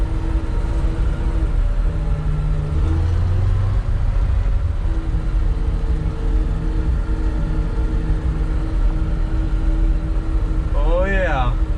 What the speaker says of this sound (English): just lug her in first gear